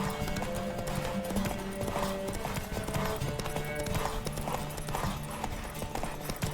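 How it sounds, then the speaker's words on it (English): Horse hooves clip-clop at a steady galloping rhythm in The Witcher 3, loud and continuous, with music and game sounds layered underneath. "Don't spare the horse!"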